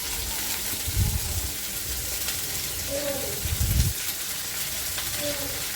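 Onion, green chilli and chopped vegetables sauté in a pan over medium flame for veg noodles, a steady broad sizzle with two louder stirring scrapes.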